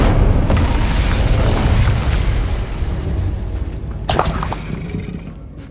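Incendio fire spell blasts in Hogwarts Legacy, a loud, sustained roaring burst of flame and rumble with a sharp crackling flare near the end.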